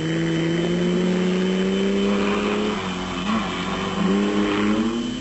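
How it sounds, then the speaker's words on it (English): V-Motors Raceco off-road race car competing in Class B of the special vehicle category at the 1996 Sun City Off Road Race in South Africa, a loud engine droning and revving with shifting pitch as it passes. "son crew of Franz Czepek Senior and Junior, who are this year campaigning the V-Motors Raceco in Class B in the special vehicle category"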